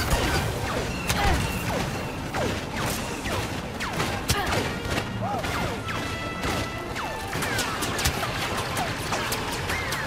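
Rapid gunfire and blaster shots from Star Wars Battlefront crackle in dense, overlapping bursts throughout, with laser-like zips over a constant roar of game action, as players chatter and talk over the fighting.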